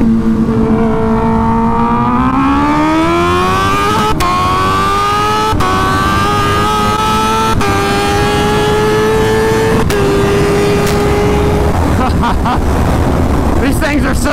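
Two motorcycles, a stretched Kawasaki Ninja H2 and a turbocharged Suzuki Hayabusa, race side by side at full throttle, engine pitch rising steadily through several quick gear shifts, loud and close with heavy wind rush throughout.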